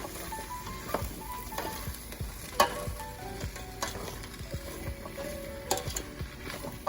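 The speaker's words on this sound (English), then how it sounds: "then we're just going to stir it around so everything gets coated in the spices" Vegetables sauté with spices in a pot for a vegetarian chili, with a soft low sizzle under repeated scraping and clacking stir strokes from a spoon, close and fairly quiet.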